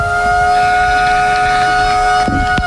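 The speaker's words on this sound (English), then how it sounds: "the siren sounds" A ground siren at an Australian football match ending the quarter, a loud, sustained steady tone blaring alone over faint crowd noise.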